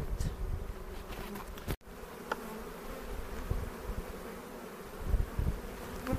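A dense, steady buzzing of many honey bees close by during an open hive inspection, continuous throughout with slight swells in loudness.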